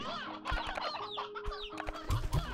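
Chickens clucking in the video game Slime Rancher 2, a busy cluster of short fowl calls and chatter repeating close up over a steady game hum.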